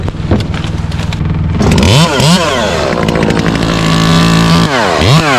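A chainsaw trims a palm tree, its engine idling briefly and then revving up and down repeatedly with sharp rising whines, loud and close, over a steady rumble.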